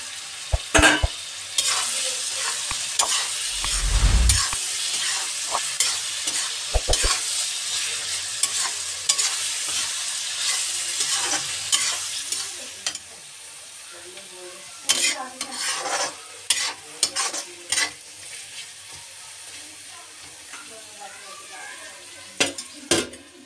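Mushrooms tossed into a pan of mustard-leaf saag, with loud spoon scrapes and clanks against the metal over a steady frying sizzle that quiets partway through, followed by sparse stirring knocks.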